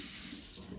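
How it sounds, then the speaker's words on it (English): Tap water runs into a kitchen sink in a steady hiss and gurgle, close and fairly quiet, continuing without interruption and with no speech. "I'm just going to put on the water and warm it up"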